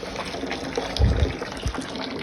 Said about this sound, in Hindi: ये गीजर कुछ ऐसे चलता है, यहाँ पे पानी डालना पड़ता है, वहाँ से गर्म पानी आएगा।